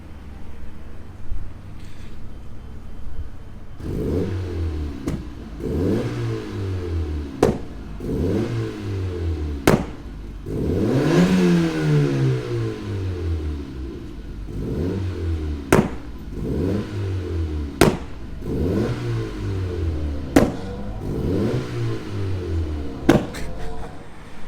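A turbocharged 1.8T engine in a Mk2 VW Golf on its stock exhaust, revved repeatedly in a steady rhythm; each blip rises and falls with a sharp crackle at the peak, loud and close, with no talk.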